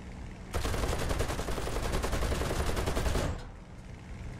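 Rapid machine gun bursts fired from a fighter aircraft at bombers in War Thunder, a dense, loud, sustained volley of about three seconds over steady engine drone, with no talking.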